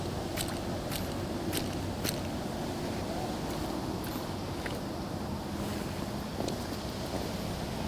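Gusty wind buffeting outdoors with a low rumbling roar and a few sharp knocks, steady throughout, no talking.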